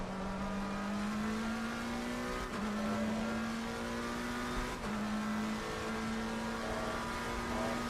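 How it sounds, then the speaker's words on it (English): Race car engine in a sim racing game holding a steady high drone with slight pitch rises, broken by two brief dips as the tyres scrub and slide under braking into a left-hand corner, loud and continuous with no talk. "if we just scrub all of our tyres there, that is less than ideal"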